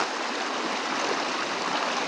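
Shallow, slippery provincial creek water rushes and burbles steadily close by during a crossing, an even, continuous wash of flowing water with no voices.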